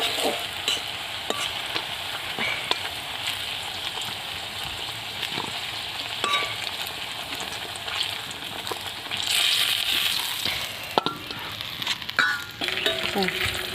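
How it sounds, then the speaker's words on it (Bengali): Pieces of teasel gourd (kakrol) fry in hot oil with a continuous steady sizzle, broken by occasional scrapes and stirring clatters from a spatula in the pan. "এরকম করে সবগুলোই আমি ভেজে নেব"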